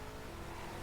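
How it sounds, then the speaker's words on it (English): Racing cars in the Xbox 360 game Ridge Racer 6 roar past, a dense, steady engine whine that fills the whole moment without any voice. "There's some good sounds of like cars whizzing by"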